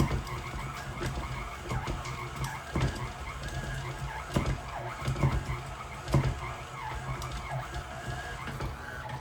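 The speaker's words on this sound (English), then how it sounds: "I let the mixer do the kneading for me by just letting it run for about 5 minutes or so" Stand mixer kneading a heavy, elastic bread dough for a cinnamon Christmas star bread, a steady mechanical whirring and grinding running continuously with rhythmic thumps, fairly loud and close, no talking.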